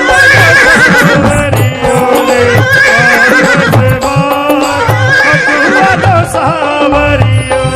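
A horse neighing as a sound effect over loud devotional music, with whinnies recurring in a rhythmic pattern beneath the dense instrumental backing.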